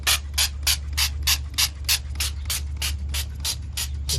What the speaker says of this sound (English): Just go ahead and spray it down as much as possible.